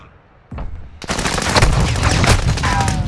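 Call of Duty Modern Warfare 2 combat: a thump and a sharp grenade blast, then a dense, continuous barrage of rapid gunfire and explosions, loud and close.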